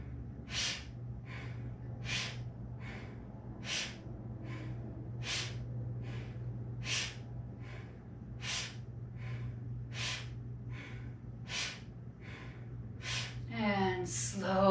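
Sharp rhythmic nasal breaths during a Kundalini yoga breathing exercise, about a dozen quick forceful exhales at a steady pace over a low steady hum, ending with a brief voiced sound.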